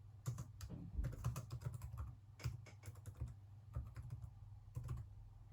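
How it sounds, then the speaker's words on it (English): Quiet, close clicking of fingers typing on a computer keyboard in irregular bursts of rapid keystrokes with short pauses between, over a low steady hum and no talking. "So I'm just going to type in"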